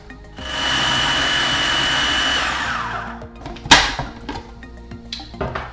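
A food processor blending spinach hummus with water and lemon juice: a steady, loud motor whir for about two and a half seconds that winds down, followed by clunks and knocks of handling.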